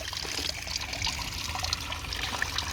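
Warm natural spring water runs steadily from the outlet at St Anne's Well in Buxton, a close, continuous trickling pour with faint splashes.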